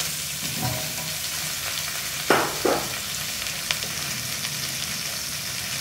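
Finely chopped onions fry in a pan with a constant hiss and sizzle, broken by a couple of louder stirring scrapes near the middle; no one speaks.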